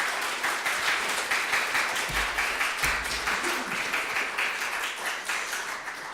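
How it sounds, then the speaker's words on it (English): Sustained applause from a meet-up audience, many hands clapping in a dense, steady wash for several seconds, with a couple of low thumps partway through and a slight fade toward the end. "Big round of applause for Eli Holness."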